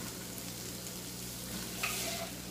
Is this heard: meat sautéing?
yes